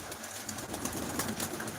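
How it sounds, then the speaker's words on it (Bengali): Pigeons being fed, a dense close-up flurry of cooing, rustling and fluttering wings from a crowded flock, with no talking. "দেখুন এই যে পায়রা খাওয়ানোর মুহূর্তটা খুব একটা সুন্দর মুহূর্ত"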